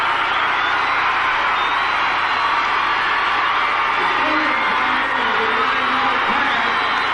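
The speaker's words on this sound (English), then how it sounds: "you do hear some cheering in the background" A stadium crowd at a 1993 Steelers vs Bengals football game cheers and whoops after a touchdown, forming a broad, steady roar that swells a little toward the end, with a few rising yells.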